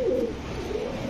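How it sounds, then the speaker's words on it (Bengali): Pakistani Pankhi pigeons at a pigeon farm, one close, low cooing call swelling and fading over a second against a soft background hum. "এটা পাঙ্খি কবুতর জি, না?"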